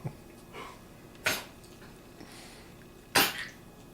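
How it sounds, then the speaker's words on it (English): Dogs choke and cough in the background at a live art painting session during the Tour de France final stage: three sharp, loud bursts spaced a second or two apart, with faint shuffling between. "you have the dogs choking, just to add to the full background effect"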